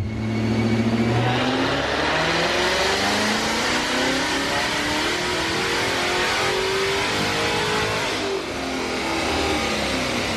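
Corvette C7 Z06 with a Corsa X-pipe exhaust revving hard through gears, loud rising engine howl with pitch climbing and dropping at shifts, continuous and close.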